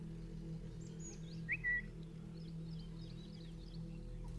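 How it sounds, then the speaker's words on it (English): Several small birds chirp and twitter faintly in a forest, scattered short calls over a steady low hum. "There sure is a lot of birds."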